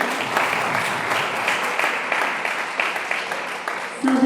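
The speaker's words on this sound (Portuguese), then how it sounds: "Vamos receber a serva do Senhor, com palmas" A church congregation claps to welcome a guest, a dense, continuous wash of hands at steady volume with a faint rhythmic pulse, voices mixed in and a brief tone near the end.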